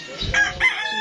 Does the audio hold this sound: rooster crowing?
yes